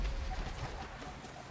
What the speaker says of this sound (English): there is a sheet of rain coming down right now